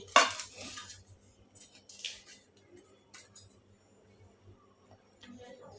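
A knife cuts a hot Mughlai paratha on a plate: a sharp metallic clink of cutlery at the start, then a few scattered scrapes and taps, close and fairly quiet, with someone talking softly.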